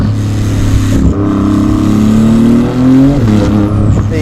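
Turbocharged exhaust of a Porsche GT2 RS with over 1000 hp on German roads, a loud close engine note that rises in pitch under acceleration, briefly drops at a shift, then climbs again.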